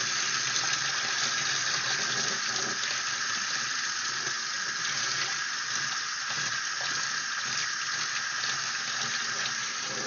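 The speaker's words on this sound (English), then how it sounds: "Going down with some hot water." Hot water pours from a tap into a mop tank in a continuous, close rushing stream with slight bubbling variation, with no talk over it.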